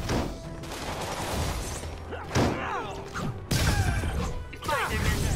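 Gunfire erupts in the Spider-Man video game at a prisoner camp in Hell's Kitchen, several loud, sharp volleys punctuated by thumps and crashes amid other game effects.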